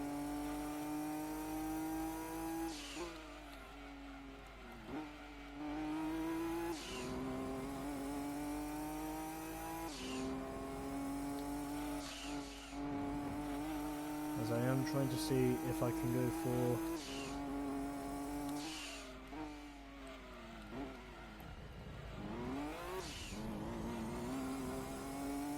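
Nissan Skyline rear-wheel-drive race car in Gran Turismo 2, its engine revving loudly and steadily through repeated gear changes and accelerations on an endurance lap at Laguna Seca, with someone talking over it throughout.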